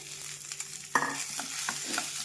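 Mashed potatoes being mixed by hand with spices for a crispy potato sandwich filling, giving soft irregular squishing and scraping strokes near at hand, with a sharper knock about a second in and no voices.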